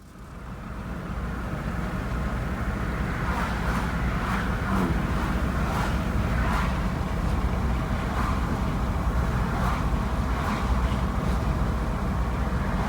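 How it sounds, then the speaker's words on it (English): A 2002 Jeep Liberty with intermittent power loss, its engine running roughly: a loud, continuous low drone with wind rush while driving, broken by irregular surging pulses through the middle of the run, heard alone without talk. "the engine is not sounding the way that it should be"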